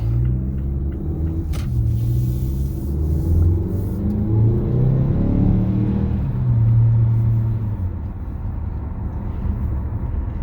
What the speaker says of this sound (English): We're going to attempt to do some acceleration.